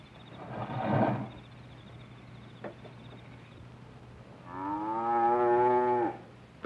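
Dairy cattle moo in a barn: a low, hoarse bellow near the start, then a longer, loud, drawn-out tonal moo toward the end, with a quiet mechanical hum between the calls.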